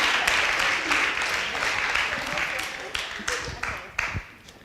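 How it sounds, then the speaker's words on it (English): Applause from an audience at an international acting festival in Oslo, a moderate wash of clapping that thins out toward the end as a few louder individual claps stand out. "Please applause for Kobi."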